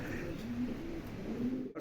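Birmingham roller pigeons coo softly nearby, low warbling murmurs repeating over a faint background, ending with a brief dropout.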